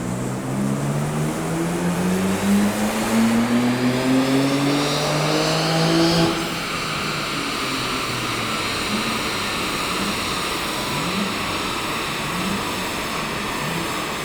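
A BMW M4 CSL engine being run in climbs steadily in pitch as it revs hard toward about 6000 rpm, then cuts off abruptly and settles into a lower, rougher drone under loud road and wind noise.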